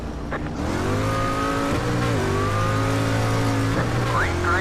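Street stock race car in an iRacing sim at USA Speedway, accelerating hard from a restart with wheel spin, its engine note climbing and shifting steadily, loud and close throughout, no talk.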